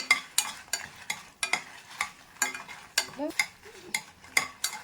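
Dried red chillies fry in oil while a utensil stirs them, making quick rhythmic clinks and scrapes about twice a second over a faint, close sizzle, with no talking.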